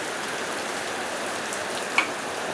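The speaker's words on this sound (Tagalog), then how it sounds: "Talagang ulan." Steady rain falls on and around a house, a dense, even hiss of drops that holds for the whole stretch, with one brief brighter tap near the end and no voices.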